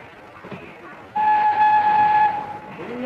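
A train at a railway station platform: a loud steady whistle or horn tone sounds over rumbling background noise and holds for over a second before fading as low rail sounds continue.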